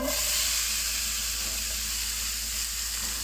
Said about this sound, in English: So let's go ahead and fry our onion.